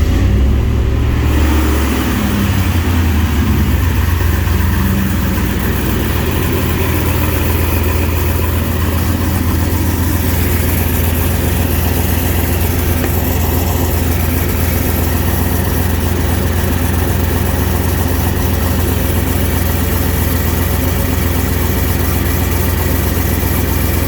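A car engine fitted with a new turbo fires up and settles into a steady idle, a continuous low rumble that holds loud and even at close range with no talking.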